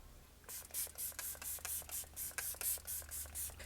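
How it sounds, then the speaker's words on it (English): Wet n Wild Purifying Setting Mist from the SpongeBob collection sprayed onto a face, a rapid run of about a dozen short, close pump-spray hisses in steady rhythm with no talking. "This is the Purifying Setting Mist."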